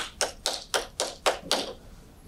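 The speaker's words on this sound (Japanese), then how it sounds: "拍手をお願いいたします" Six quick, evenly spaced claps from a single person at a barrier-free seminar, fairly close and crisp, then silence.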